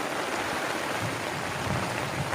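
Heavy rain pouring down as a storm arrives at an outdoor fishing spot, a dense, even hiss of falling water with no gaps or talk across the short stretch.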